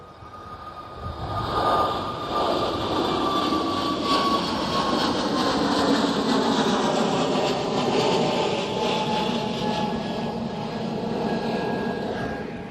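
Airbus A320neo airliner passing at Bristol Airport, a broad sustained jet roar with a steady whine, swelling in and holding loud for several seconds before easing slightly.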